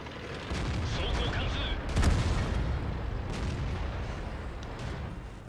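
Tank cannon fire in World of Tanks, with a heavy boom near the middle over constant rumbling battle noise and scattered distant shots, while a voice talks underneath.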